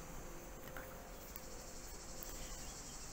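Cicadas sing outdoors as a dense, continuous high-pitched buzzing drone. It is steady and fairly faint throughout, with no speech.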